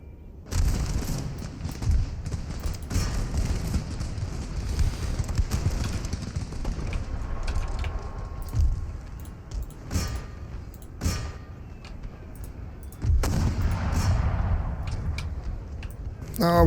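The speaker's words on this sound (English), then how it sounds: "Oh, we're taking fire." Musket fire in an Empire: Total War battle with Prussian line infantry firing by rank: a dense, ongoing battle din with scattered sharp shots and booms, and a voice speaking over it at times.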